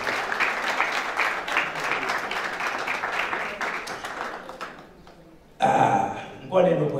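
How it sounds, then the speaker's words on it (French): A crowd applauds steadily for several seconds, then the clapping fades and a voice speaks briefly over the tail end. "Sous vos applaudissements"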